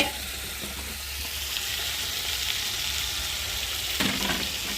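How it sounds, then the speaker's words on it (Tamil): Green chillies sautéing in a pan for bitter gourd curry, a continuous close sizzle and fry with light stirring scrapes and a brief clatter near the end, no talking. "பாவக்குழம்புல பச்சை மிளகாய் கொஞ்சம் போட்டு வதக்கணும்"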